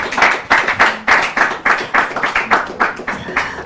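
Audience at a church Bible contest between the Divine Healers Church and the Salvation Army Church, Ghana Territory, claps in a steady round of applause, close and fairly loud, with no talking.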